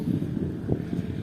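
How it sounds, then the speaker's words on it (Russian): Cold wind blowing outdoors beside a balcony in Turkey, a close, buffeting low rumble of gusts against the microphone, steady and fairly loud for a brief moment with no talk. "Ох, ветер холодный дует."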